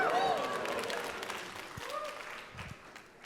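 Applause and crowd noise from a studio audience fill the short stretch at moderate level, with a faint tonal sound near the start and no clear speech.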